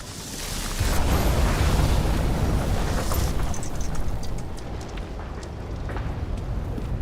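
A rumbling blast from the video game Nobody Wants To Die sets off a loud, sustained low roar that holds steady for several seconds. Crackling debris and sharper pops scatter over the rumble.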